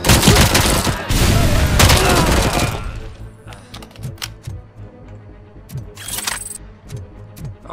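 Rapid bursts of gunfire from the video game Robocop Rogue City, loud and dense for the first few seconds, then thinning into scattered shots and impacts over a quieter background.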